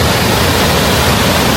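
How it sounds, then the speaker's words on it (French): Sea wave breaking, a short burst of loud broadband surf rush with nothing else audible. "Oh la vague qui arrive."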